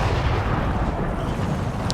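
Artillery fire in the Napoleonic-era strategy game Empire 2, a dense continuous rumble of distant booming cannon blending into a steady low roar with no clear separate shots.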